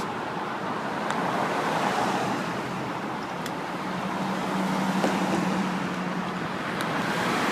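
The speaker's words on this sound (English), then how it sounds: "I'm going to get some traffic here of cars." Cars pass along a road near a bar and a hotel, a steady broadband roadway rush with a louder vehicle swelling by mid-clip, fairly near and continuous throughout.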